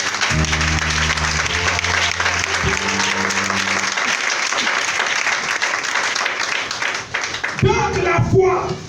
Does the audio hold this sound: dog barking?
no